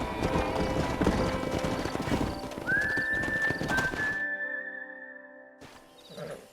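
Horses in the Red Dead Redemption video game, steady hoofbeat clip-clop with a whinny, fairly loud and busy over background game sound, then dropping out abruptly near the end.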